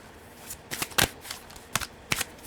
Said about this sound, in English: Good drop shuffling.